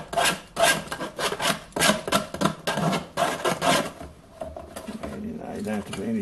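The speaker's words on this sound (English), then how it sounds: "Clean up the edges a bit with the side of a knife." Knife side scraping the edges of a small homemade workshop storage container: close, rhythmic rasping strokes repeating steadily, then easing off, with a voice talking over them.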